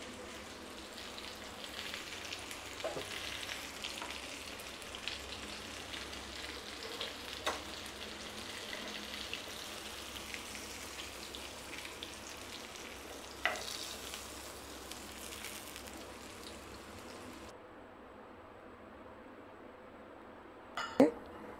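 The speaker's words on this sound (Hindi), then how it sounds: "तेल बहुत छीटा मार रहा है" Bitter gourd frying in hot, spattering oil gives a steady close sizzle with scattered pops and faint utensil clinks, holding for most of the stretch before cutting away near the end to a couple of brief knocks.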